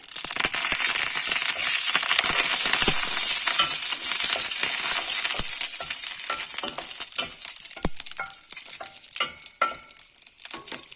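Cumin seeds and curry leaves sizzling in hot oil in a pan, a steady loud frying hiss with crackles and sharp pops, stirred with occasional clinks of a utensil against the pan.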